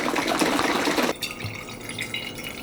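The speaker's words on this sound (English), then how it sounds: "This time I'm gonna pour the hot water in first and like kind of shake it all together." Hot water pours into a container while mixing a homemade drink, a loud gushing stream for about a second that cuts off, followed by quieter sloshing and dripping.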